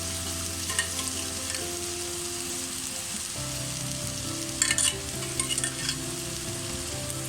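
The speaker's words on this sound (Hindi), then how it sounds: "ऑयल ऐड करने के बाद इसको अच्छे तरीके से हम भूनेंगे।" Chicken pieces with garlic, ginger and oil fry on a hot tawa, giving a steady sizzle with a low-pitched hum underneath and a few sharper crackles and stirring scrapes midway.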